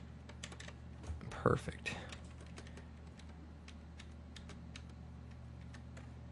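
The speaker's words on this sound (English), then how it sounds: "I'm just hitting page down and just going through it" Page down key on a computer keyboard pressed repeatedly in quick, light taps, a steady run of faint clicks over low room hum, with a brief spoken word in the middle.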